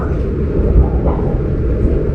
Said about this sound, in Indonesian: Kereta api Brawijaya baru mau masuk ke stasiun Belingi.